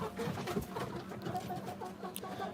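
Soft, low clucks from a hen, several short calls scattered over a faint background, fairly quiet and close.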